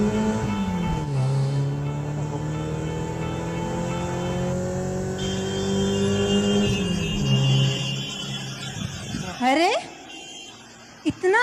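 A car engine hums steadily and shifts in pitch as the vehicle pulls away, loud and close, continuous for several seconds before the sound breaks up and fades near the end.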